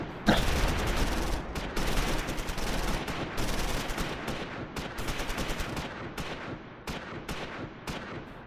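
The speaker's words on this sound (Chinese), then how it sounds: "你刚那个步枪手，啪啪啪啪啪的打" Rifle and automatic gunfire from a Close Combat 5 Normandy battle, a dense continuous crackle of rapid shots with frequent sharp cracks throughout, loud and close, no talking.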